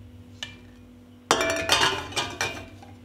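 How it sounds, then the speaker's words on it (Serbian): Glass canning jars are set one after another into a cooking pot lined with a cloth, giving several close, bright clinks and knocks after a quiet start. "na dno ću staviti krpu i unutra poređati tegle"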